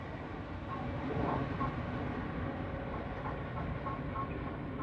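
A train rolls past Colton North Junction with a steady, close rumble and faint rhythmic rail clatter that holds level throughout, with no voices.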